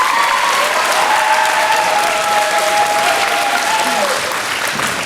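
An audience at an award ceremony breaks into loud, close applause, a thick continuous clatter of clapping hands with a faint voice briefly rising underneath before the clapping eases slightly near the end.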